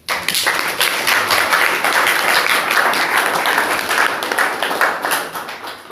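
A church congregation claps for the Lord in a dense, steady burst of applause lasting about six seconds, loud and close, with some rhythmic tapping within the clapping.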